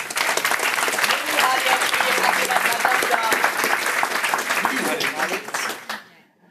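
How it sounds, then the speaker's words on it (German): Loud, dense applause from the audience at a youth hackathon closing event in Ulm, sustained for several seconds before trailing off abruptly at the end. "Ja, euer Applaus..."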